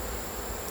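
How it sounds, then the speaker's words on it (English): Angry honeybees swarm around an opened backyard hive, making a brief burst of thick, continuous buzzing heard up close and alone. "That is a lot of bees."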